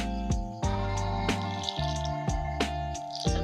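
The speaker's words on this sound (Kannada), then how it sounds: "ಹಾಗೇನೆ ನಾನು ಸ್ವಲ್ಪ ನೀರು ಹಾಕ್ತೇನೆ," Water trickles into chilli bajji batter in a series of bright, plinking drips and short pours, close and fairly clear, with no one talking.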